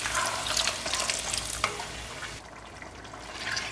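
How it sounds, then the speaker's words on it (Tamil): Water splashes into a gravy sizzling in a pan on the stove, a close, hissing pour and bubbling that eases into a quieter simmer. "ஒரு 1/4 டம்ளர் அளவுக்கு தண்ணி ஊற்றிக்கலாம்."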